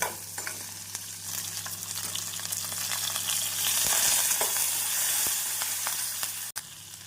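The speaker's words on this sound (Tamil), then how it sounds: "இந்த அளவு வெங்காயம் பூண்டு வதங்கவும்" Onion and garlic sautéing in a pan for a Tamil pepper-garlic kuzhambu, a continuous close sizzle with scraping stirs throughout and a brief clatter near the end, no voices.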